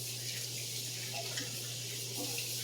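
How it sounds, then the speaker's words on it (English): A hand is rinsed under a running sink faucet in a home kitchen, giving a steady, faint hiss of flowing water over a low electrical hum. "Let me rinse my hand real quick."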